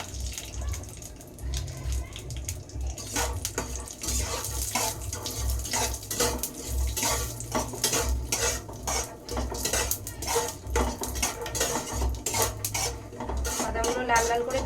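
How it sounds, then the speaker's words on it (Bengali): Raw peanuts fried in a pan, with steady rhythmic stirring scrapes and metal clinks from a spatula, close and continuous, under a faint background of running water. "দিয়ে দেবো কটা কাঁচা বাদাম, তো সেই জন্য একটু ভেজে দিতে হচ্ছে।"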